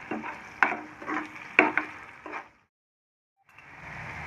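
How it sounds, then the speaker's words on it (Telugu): Soya curry masala with chili powder and salt being stirred and fried in a pan: scraping stirs and soft sizzling, close, with a brief pause of silence before the frying resumes. "ఇలా మొత్తం వేసి ఒకసారి కలిపేసుకొని 1 నిమిషం పాటు వేగనివ్వాలి"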